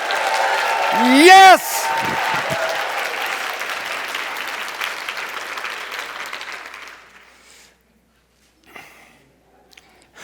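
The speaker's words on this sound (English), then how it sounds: "I'd like you to begin to stamp your feet and clap your hands. And now begin to shout, shout, shout, shout." An audience at a health summit talk claps, stamps and shouts together in a loud, dense burst lasting several seconds, with a voice crying out near the start, before the noise cuts off to near silence.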